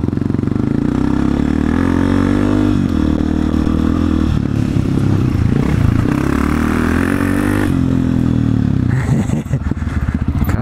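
A loud Honda CRF 250 F off-road motorcycle engine revs and accelerates up close, pitch climbing through gear pulls, with no talking.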